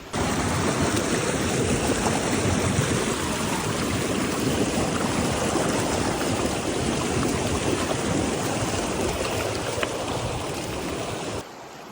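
A river flowing beside an uphill hiking trail rushes and burbles steadily at close range, a continuous even wash of water that cuts off abruptly at the very end, with no talking.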